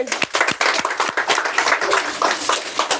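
A small group of spectators claps at a singara-eating contest, the clapping coming as distinct uneven bursts with short gaps, close and fairly loud, and no talk over it.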